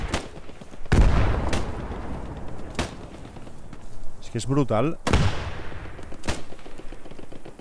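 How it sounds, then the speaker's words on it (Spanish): Gunfire and artillery from the Post Scriptum war game, with sharp shots and booming blasts going off several times at irregular intervals, some near and some distant, mixed with someone speaking. "Están disparando. Puede ser algún tanque o... Yo no lo sé, yo solo sé que oigo tiros por aquí."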